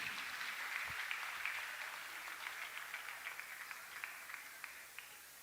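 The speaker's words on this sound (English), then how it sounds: "A round of applause, audience." A fairly small audience applauds at a felicitation ceremony, soft, steady clapping heard from a distance that gradually thins out into scattered individual claps.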